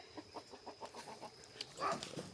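Free-range desi (gavran) chickens clucking on a farm in short, rhythmic bursts, fairly faint and close-ish, with one louder squawk near the end.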